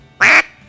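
A single short, loud quack from a duck call blown to imitate an older duck, close and alone.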